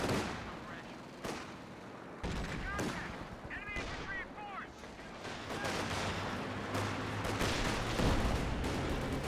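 A .50 cal machine gun fires in a Company of Heroes 2 battle, with sharp bursts of gunfire and artillery-like booms mixed into busy combat noise and a low rumble throughout.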